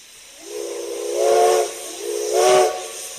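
A steam train whistle sounds twice as a sound effect, two drawn-out, loud hooting blasts over a bed of hissing steam, the second blast shorter and sharper than the first.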